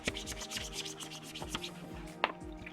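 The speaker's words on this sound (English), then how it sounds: "and scrape along as I go" Scraper tool pulled across adhesive vinyl on a journaling Bible cover, making a close series of soft, repeated rubbing scrapes at an uneven rhythm, with one sharper scratch near the end.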